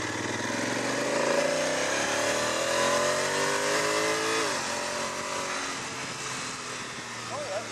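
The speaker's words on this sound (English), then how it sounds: "Let's see one more acceleration here from about 40 kilometers an hour." A 2017 Honda Africa Twin DCT motorcycle accelerates from about 40 km/h, engine note climbing through an automatic gear change and then settling, with wind noise throughout.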